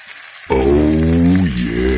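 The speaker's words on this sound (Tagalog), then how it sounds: "haluin na natin para di masunog" Tofu sisig hits a hot pan after a moment of quiet, breaking into a loud, close, sustained sizzle that carries a humming tone and eases slightly toward the end.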